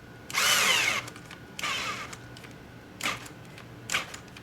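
Black & Decker 12 volt cordless drill (LDX112) running on a fresh replacement battery: several whirring bursts, a long first run and then shorter, weakening pulses as it stalls, close and alone.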